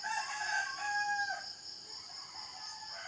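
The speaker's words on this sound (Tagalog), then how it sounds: "Tilaok ng manok dahil madaling araw na." A rooster crows in the dark before dawn, one long drawn-out cock-a-doodle-doo rising and then falling away, clear and moderately close, with quiet ambient hiss after it.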